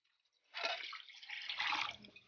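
Plain tap water pours into a container while a brine shrimp hatchery is being set up, a steady splashing rush that starts abruptly, briefly eases, then swells again close by with no talking.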